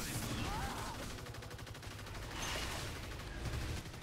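Sustained gunfire aimed at the Kraken monster in the game Evolve, a continuous dense rattle of shots with rumbling impacts throughout, while a voice talks over it.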